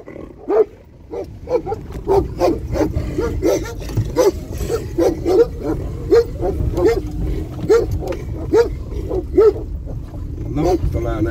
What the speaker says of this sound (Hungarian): Itt meg a juhász kutyák. Az egyik jön és a kocsit letámadni.